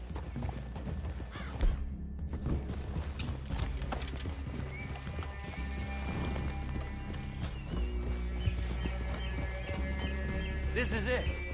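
Horses clip-clop steadily at a walk with an occasional whinny in Red Dead Redemption 2, while people talk over the hoofbeats.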